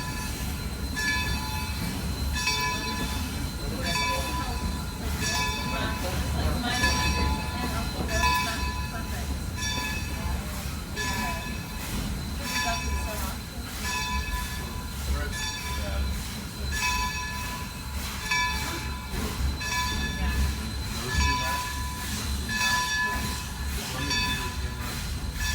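A steam train runs on an elevated rail line in Scranton, PA, giving a continuous rumbling roll with rhythmic clanking and a ringing bell over it, and people talk over the noise.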